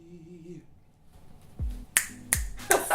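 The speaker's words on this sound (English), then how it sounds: "Snaps, not claps, but snaps for that." Several crisp finger snaps, roughly three or four sharp clicks spaced irregularly, close and fairly loud, following a brief bit of singing voice at the start.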